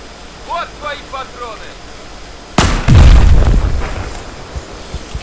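A C4 explosion in Battlefield 4 detonates with a sudden loud, heavy boom that rumbles and decays over a couple of seconds, following a few quieter chirping game sounds.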